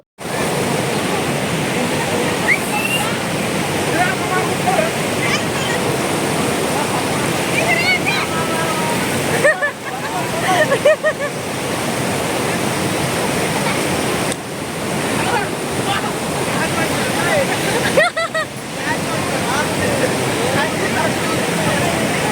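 Strong water rushing steadily over a reservoir weir at a village tank, a dense continuous roar filling the whole clip with brief dips, and faint voices under it.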